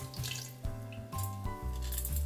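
Water pours into a pressure cooker holding two carrots, in a few short splashing bursts with changing pitch as the level rises, close and fairly quiet.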